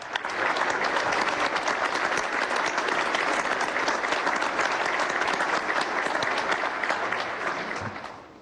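A large assembly at a summit applauds President Evo Morales of Bolivia, a loud, sustained wall of many hands clapping that swells quickly and holds steady for several seconds before tapering off at the end.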